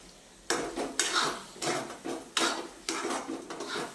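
Eggplant bharta (olo) being stirred in a pan, a spoon scraping and knocking against the metal in repeated strokes roughly every half second, close and fairly loud with no talking.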